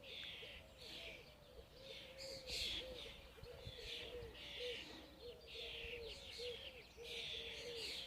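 Birds sing and chirp outdoors in a garden, bright repeated phrases over a soft cooing call that recurs in a steady rhythm, moderately distant and fairly quiet, with no voices.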